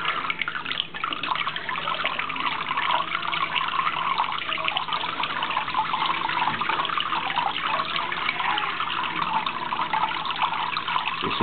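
Water streams steadily into a homemade float valve rig for maple syrup sap, a continuous close, broadband rushing and trickling like a running tap that holds an even level throughout with no speech.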